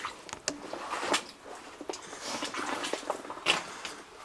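Irregular drips and small splashes of water from a spring echo inside a mine, scattered unevenly and fairly faint against a damp, hissing background.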